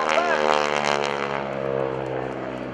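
A propeller airplane performs a roll at the 2012 NAS Oceana airshow, its steady loud engine drone holding throughout with a slight rise and fall in pitch as it passes.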